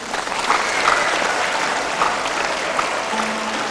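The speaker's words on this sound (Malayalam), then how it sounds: "പിന്നെന്താണ് നിങ്ങൾ കൈയടിക്കാതിരിക്കണേ?" Church congregation applauding together, a steady dense clapping that fills the space evenly at moderate loudness from start to finish with no talk over it.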